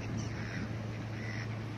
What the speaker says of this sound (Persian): ببینیم اون اردک وحشی جلوشو، این دوتا اهلی هن در رنگ های مختلف، سفید سیاه.